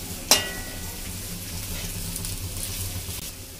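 Chopped ingredients sizzle in hot oil while being sautéed for tari poha, opening with a sharp clatter and hiss as they hit the pan, then a steady close-up frying crackle with no voices.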